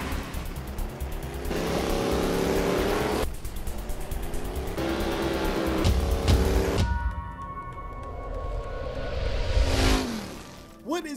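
Electric 1400hp Mustang Mach E racing in reverse in Forza Horizon 5, with a loud whining surge that repeatedly cuts in and out and bursts of tire noise, while a person talks over it.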